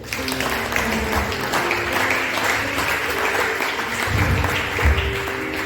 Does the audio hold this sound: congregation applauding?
yes